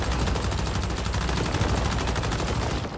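Rapid automatic gunfire in the Once Human video game, a dense, continuous burst of shots at a steady fast rhythm throughout.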